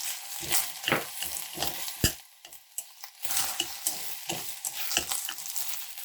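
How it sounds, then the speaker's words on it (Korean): Green onion and sliced onion stir-fry in a hot pan for a Korean cabbage and shrimp dish, giving a steady sizzle broken by repeated scraping strokes of a spatula, close and without voices. "파향이 올라오면 양파를 넣고 같이 볶아주세요."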